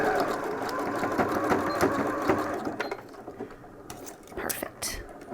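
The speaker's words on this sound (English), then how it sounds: "We're just kind of sewing gathers into it." A sewing machine stitches gathers into isolation gown fabric, running in a steady rapid whir that gives way to a few stops, clicks and fabric handling near the end, with quiet talk over it.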